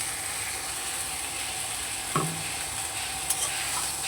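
Poppy seed paste being stirred into vegetables frying in a pan for a vegetarian dish, with a steady close sizzle and a brief scrape of the spoon partway through.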